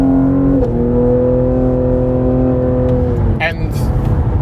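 A 2021 Cadillac CT5-V luxury sports sedan in sport mode, its engine droning loudly from inside the cabin as it accelerates, the pitch dipping briefly as it shifts.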